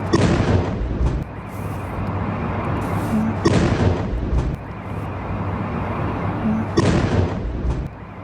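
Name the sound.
explosions from a Russian ballistic missile attack on Kyiv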